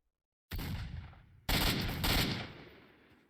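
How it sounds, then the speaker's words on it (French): A shotgun fires nearby in the S.T.A.L.K.E.R. video game, two loud, close blasts about a second apart, each trailing off in a short echoing decay. "j'ai l'impression qu'il y a quelqu'un qui tire au fusil à pompe de proche là"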